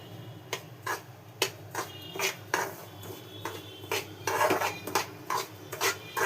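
Semolina being stirred and scraped in a metal pan over a low flame, with repeated clinks and scrapes of a spoon against the pan in an uneven rhythm, close and fairly loud, no talking.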